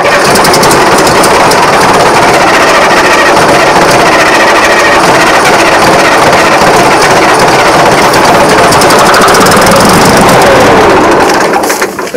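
Diesel engine of a Case 1150 dozer starting and running, a loud, steady clatter that holds continuously close by before cutting off at the very end.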